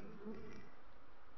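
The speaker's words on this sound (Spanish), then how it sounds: "Y la abeja bufa, que está bastante fuerte" A steady, dense buzz of Buckfast honeybees at a very full hive fills the short stretch, a close, even drone like many bees swarming together.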